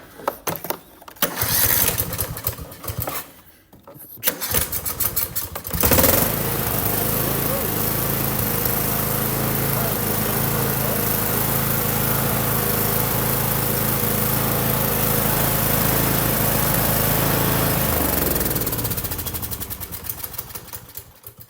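A Cub Cadet XT1 lawn tractor engine cranks in short bursts, then catches and runs loud and steady for about fifteen seconds before winding down, with a battery charger hooked up and a voice speaking early on.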